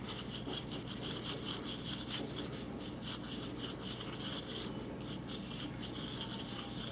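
A bristle brush scrubs buildup from a .357 Ruger Blackhawk revolver, making a quiet, continuous rapid scratching with quick back-and-forth strokes and a faint low hum underneath.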